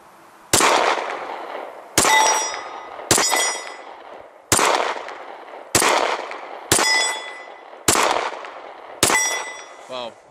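Eight loud, sharp gunshots from a Glock 23 pistol, spaced roughly a second apart, each a hard crack followed by a short ringing decay, with no talking between them.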